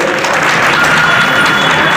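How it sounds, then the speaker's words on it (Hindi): Dense applause from a crowd at an outdoor protest rally by a building-material transport union outside the Rajnandgaon collectorate, steady and loud throughout without pause. "आप सब लोग से निवेदन करता हूँ, तालियों के साथ उनका स्वागत करिए"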